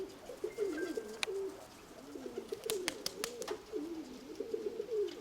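A pigeon coos in low, rolling phrases, nearly continuous and fairly close, with a few faint clicks and rustles in the background.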